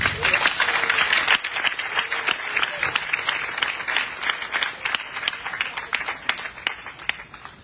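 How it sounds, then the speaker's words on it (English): A large crowd at an official event with the president applauds after a speech at a military hospital. Loud, dense clapping starts strong, dips briefly, then carries on steadily with individual claps audible. "the Commander 34 Military Hospital please deserves another resounding applause"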